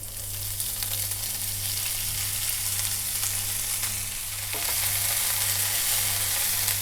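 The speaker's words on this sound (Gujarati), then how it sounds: "મેથીને ઘીમાં આ રીતે રોસ્ટ કરી લઈશું।" Finely chopped fenugreek leaves roast in ghee in a pan, giving a continuous, fairly loud frying sizzle with light stirring, and no voices.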